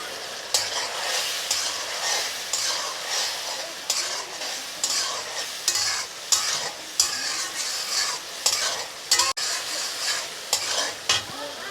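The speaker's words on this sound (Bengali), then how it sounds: "এখন আমি এটা কিছুক্ষণ কষিয়ে নেব।" Vegetarian dhoka masala being sautéed and stirred with turmeric and chili powder, a steady close sizzle of frying with repeated scraping strokes of a spoon against the pan, no voices.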